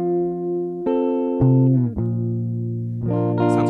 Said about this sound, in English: this is what it sounds like dry. So straight off the guitar into the mixing desk, no effects whatsoever.